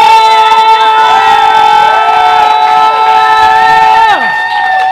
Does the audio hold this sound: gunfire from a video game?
no